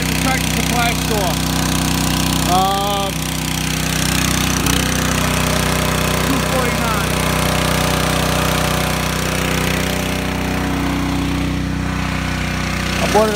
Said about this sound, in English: this is my big pump up